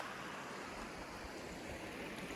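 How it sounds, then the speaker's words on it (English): The Never Sink River rushes in a steady, dense hiss of flowing water. It is quiet overall, with no other sound apart from the stream. "So this is the beautiful Never Sink River."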